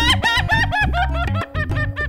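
Rooster crowing in a slow, drawn-out, melodic style, a series of repeated harmonic calls in quick succession, loud and close with no talk over it.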